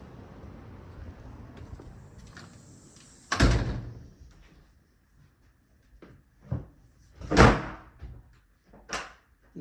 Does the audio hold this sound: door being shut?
yes